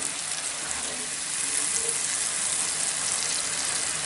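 Masala fries in a pan for a mixed vegetable dish of potato, peas, carrot and fenugreek, a steady close hiss of sizzling oil that holds evenly throughout with no voices.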